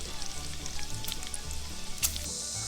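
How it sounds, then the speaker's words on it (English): Bacon and sausage sizzle and crackle steadily in pans on a stovetop inside an RV, a continuous close frying hiss with small pops and one brief louder spatter, no voices. "I'm having to cook some bacon and sausage on some pans"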